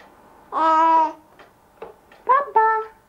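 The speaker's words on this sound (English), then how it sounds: "you say that lovely ba ba ba sound you said this morning?" A baby babbles repeated ba ba sounds in short vocal bursts: one longer drawn-out syllable, then a few quick clipped ones, close and clear with gaps of quiet between them.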